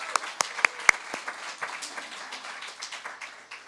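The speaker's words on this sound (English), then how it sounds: "Let's give her a round of applause." Scattered, fairly quiet applause in a church service, a few sharp individual claps up front settling into a light, thinning patter of hands.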